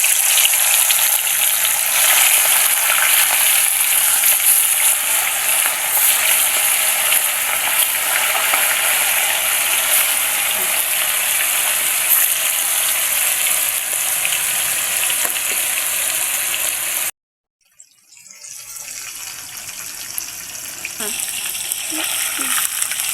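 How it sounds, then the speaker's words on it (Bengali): Pieces of chicken fry in hot oil that was just used to fry onions, a steady, dense sizzle that runs loud and close, then drops out briefly before bubbling back up. "বেরেস্তা ভেজে রাখা তেলে মাংসটি ভেজে নেব।"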